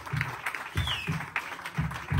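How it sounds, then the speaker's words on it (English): An audience applauding a contestant at a talent search results show, clapping that is fairly quiet and somewhat uneven, with a few sharper hand claps standing out over a couple of seconds. "Round of applause for Lily, guys."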